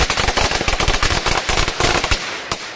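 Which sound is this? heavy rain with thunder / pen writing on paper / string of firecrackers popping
string of firecrackers popping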